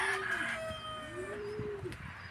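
A pet pigeon coos softly in a few gliding, rising-and-falling calls, faint and close, with light background noise and no talking.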